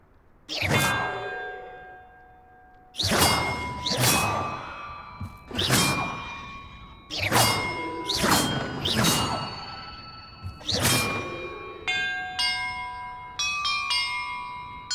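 Bells struck one after another in Hogwarts Legacy, each a bright metallic clang with a long ringing decay, sounding in irregular groups across the stretch, closing with a quicker run of lighter chimes.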